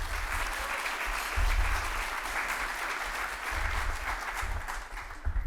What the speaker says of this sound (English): So, brief round of applause for Martha.